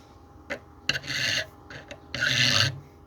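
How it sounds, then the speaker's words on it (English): A file rasps across a horn bow nock to cut the string groove, with two short scrapes and two longer, smooth, close strokes separated by brief pauses. "So go ahead and just file smoothly"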